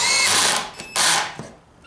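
A power drill drives screws into the legs of a mid-century modern coffee table, two close, loud whirring bursts of motor spin separated by a short pause, fading out at the end.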